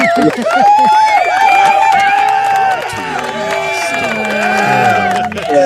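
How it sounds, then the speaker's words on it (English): A crowd cheers and applauds loudly at a live stream, with whoops and shouting voices layered over clapping throughout. "Give me a round of applause"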